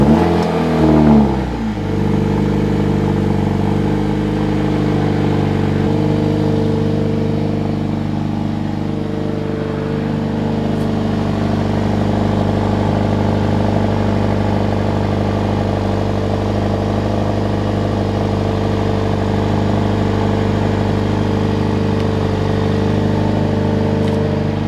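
A 2023 Mercedes-AMG A45 S gives a loud cold startup, flaring sharply to high revs, then settles into a steady, droning high idle that holds for over twenty seconds, recorded close with no talking.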